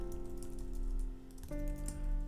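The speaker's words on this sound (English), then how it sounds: "Going to be a bit of typing there" Rapid typing on a computer keyboard clatters in close, quick bursts of light key clicks over a steady electrical hum, with no one speaking.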